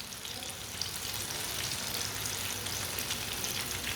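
Vegetables fry in oil in a pan, giving a soft, even hiss and fine crackle that stays low and constant throughout without any voices.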